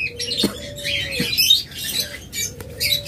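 A pair of black-eyed albino pet birds chirps and squawks in repeated bright bursts, loud and close, with short pauses between calls.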